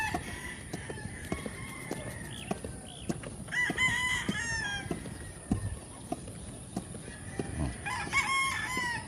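Chickens feeding on a farm in the Philippines: hens cluck and a rooster crows amid steady pecking and scratching sounds, busy and close, with birds calling throughout.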